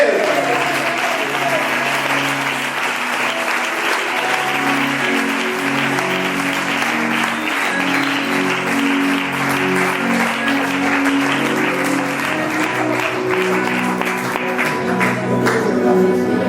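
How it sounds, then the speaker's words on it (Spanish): Sustained loud applause from a large church congregation fills the space continuously, with music playing underneath throughout. "Un aplauso para Él."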